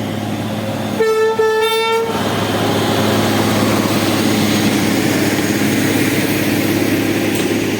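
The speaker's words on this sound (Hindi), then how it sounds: "यहाँ पर ट्रेन जा रही है" Train engine on a new railway line near Jaunpur Junction, a loud horn blast lasting about a second, then a steady, close rumble of the passing rail cars that fills the rest of the clip.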